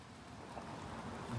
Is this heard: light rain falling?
yes